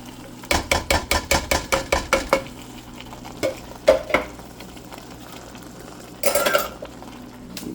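A spoon scrapes around a pot of sweet red relish ingredients, including diced tomatoes, in a quick run of about ten even strokes, then a few slower ones and a brief rattling burst, close and clear.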